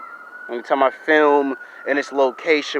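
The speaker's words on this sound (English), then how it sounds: "fire trucks and ambulance pop out in this area." Fire truck and ambulance sirens pass outside, a steady wailing tone that runs beneath someone talking close to the microphone.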